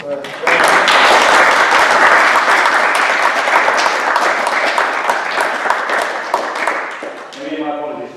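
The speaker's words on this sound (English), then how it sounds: "round of applause for" Loud, dense applause from an audience at a university humanist group talk, starting abruptly and sustained for several seconds before tapering as a voice returns at the close.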